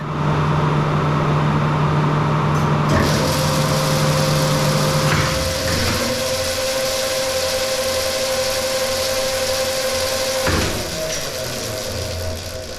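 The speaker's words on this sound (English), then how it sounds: "As the lift slows, see if you notice the two activations of the brake." A vintage Schlieren elevator slows down with a steady mechanical hum and drone, broken by two distinct brake activations that clunk in a few seconds apart, heard close and alone.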